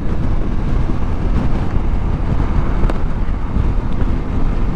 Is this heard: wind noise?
yes